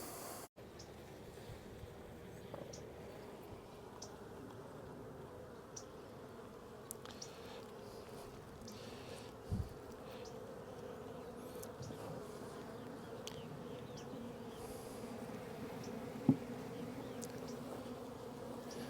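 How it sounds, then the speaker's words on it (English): A steady, low hum of a small honeybee after-swarm, continuous and even throughout, with a few faint clicks and knocks nearby. "This is a small after swarm, it looks like."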